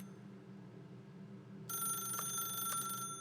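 A telephone in The Stanley Parable starts ringing partway through, a bright electronic trill with two quick rings over a low ambient hum, no voices present.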